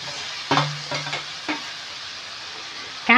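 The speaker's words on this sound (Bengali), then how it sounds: "তেল ছেড়ে গেছে, এবার আমরা এক একে করে কাঁকড়াগুলো এর মধ্যে ঢেলে দেব।" Crabs dropped into hot oil for a spicy crab curry, with a steady broadband sizzle broken by a few sharp pops and stirring clatters, including a louder burst at the end.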